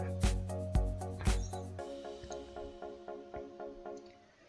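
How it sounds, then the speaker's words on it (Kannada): Maida flour dough for chakli is kneaded by hand as water is added, giving soft, rhythmic wet squishes and taps about twice a second that fade gently. "ನಾವು ಇದಕ್ಕೆ ನಿಧಾನವಾಗಿ ಸ್ವಲ್ಪ ಸ್ವಲ್ಪ ನೀರನ್ನು ಹಾಕೊಳ್ತಾ ನಾದ್ಕೊಳ್ಳೋಣ"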